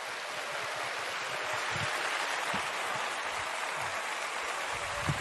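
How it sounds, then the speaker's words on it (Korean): A church congregation at a Sunday worship service claps to welcome a visiting missionary to the front. The applause is a dense, even wash of many hands that holds steady throughout. "하나님께 감사하는 마음을 담아 축복과 환영의 박수로"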